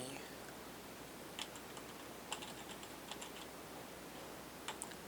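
Sparse, faint keystrokes on a computer keyboard while a Linux command is entered on an Orange Pi home file server, scattered clicks over a steady background hiss.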